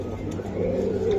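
Racing pigeons of Netherlands origin coo softly nearby, a low throaty warble rising over a muffled background hum, with no one talking.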